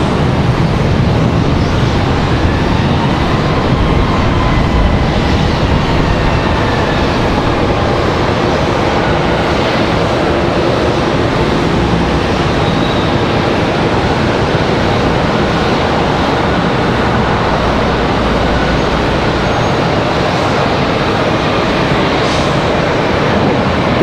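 A Contour Airlines CRJ-200 regional jet moves at Charlotte Douglas airport, giving a steady, loud jet roar that holds for the whole stretch with a slowly shifting whine, heard from outdoors without talk.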